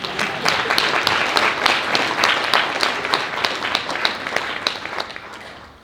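Audience applause fills a fundraising banquet hall, a dense steady wash of many hands clapping with sharper claps standing out, sustained for several seconds before beginning to taper off.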